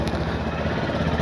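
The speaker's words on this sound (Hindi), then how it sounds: "let's start the bike" A motorcycle engine runs at a steady idle, loud and close, with a low rhythmic putter and no talk over it.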